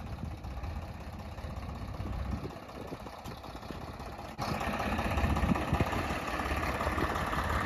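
Two plain, simple tractors, one with its engine running nearby: a steady low idle and rumble that grows louder and heavier partway through, with no clear speech.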